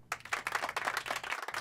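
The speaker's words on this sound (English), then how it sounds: "Can you clap and cheer once more for Mela's wonderful performance?" An audience claps and cheers after a flute performance, a short burst of steady, dense applause that starts abruptly and stays fairly loud throughout.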